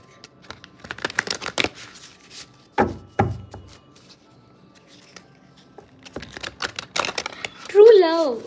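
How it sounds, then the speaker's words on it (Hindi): Tarot cards are shuffled up close, giving quick flurries of riffling and slapping in uneven bursts with pauses between, while someone talks softly at points throughout. "मैं फिर से शफल करके लूँगी।"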